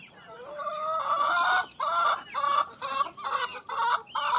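Hens on a small farm, raised from chicks, cluck and squawk in a run of loud, close, rhythmic bursts with brief gaps between calls, and no talk over them.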